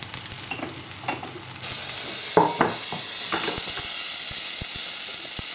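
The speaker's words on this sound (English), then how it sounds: "I'm just going to leave those to cook for another minute or so till they're both cooked through." A fake steak and mushroom frying together in a pan give off a steady close sizzle, with a few brief clicks and scrapes of stirring on top and no talking.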